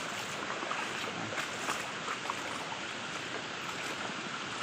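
A stream of water flows across a rural barangay road, a faint continuous rushing and trickling wash heard alone without talk.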